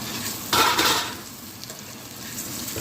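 Fried potatoes tipped into a pan of fried onions, a brief loud burst of sizzling and scraping near the start that settles into a steady low frying hiss, no talking.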